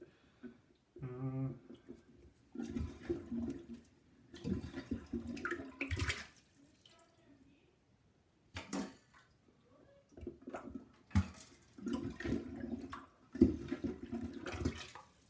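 Water gurgles and sloshes out of a toilet bowl being drained during a toilet replacement, coming in uneven bursts with quiet pauses between them.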